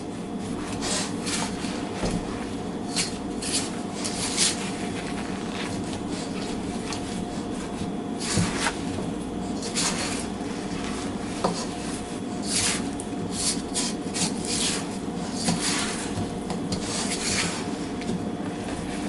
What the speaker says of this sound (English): we're going to stir this with a rubber spatula until the cornstarch is fully dissolved